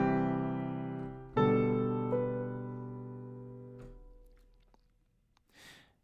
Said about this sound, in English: If that was an accented passing tone, it would sound like this.